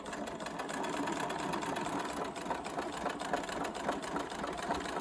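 A sewing machine runs continuously while stitching a row on jeans, a steady close mechanical whir with rapid needle rhythm and no talk over it.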